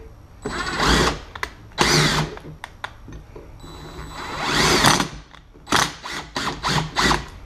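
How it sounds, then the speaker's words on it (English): Impact wrench driving a bolt into the brake caliper of a BMW E36 during a dual caliper install: loud bursts of rattling hammering, several long runs and short blips, close and alone. "So we're going to use an impact into the caliper and use that to loosen up the threads again so that they go in nice and easily."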